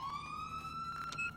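Police car siren in the GTA 4 LCPDFR game, a steady electronic tone slowly rising in pitch, loud and close with no voices over it.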